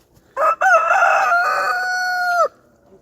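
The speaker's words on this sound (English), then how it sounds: "I have 3 roosters, and it's too much for this area" One of three roosters crows once, loud and close, a single drawn-out call lasting about two seconds, with a short opening note before the long tail.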